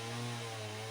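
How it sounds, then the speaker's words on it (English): Chainsaw cutting firewood in the background, a faint, steady buzzing engine drone with no pauses. "John is chopping firewood with the chainsaw."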